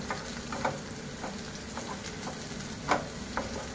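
Tomatoes cook in a pan for paneer mutter malai with a steady sizzle, and a utensil scrapes and taps now and then while stirring, close and alone without talk.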